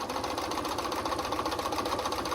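A sewing machine stitches a fabric seam with a fast, even mechanical chatter and hum, running continuously at close range.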